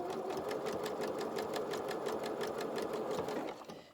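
A sewing machine runs a zigzag stitch on a soft toy body with loosened bobbin tension, a close steady whirring with a rapid even stitch beat that slows and stops at the end.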